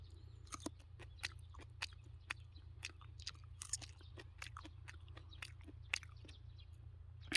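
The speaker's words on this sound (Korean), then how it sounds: "태국 여주를 다시 한번 제가 먹어볼게요" Someone bites into raw Thai bitter gourd, giving a run of crisp, close crunches and chewing sounds at an uneven rhythm over a low, steady background hum.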